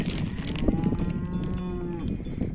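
Cows on a farm moo loudly and close by, one long drawn-out bellow that holds for about a second and a half before trailing off, with other cattle stirring in the background.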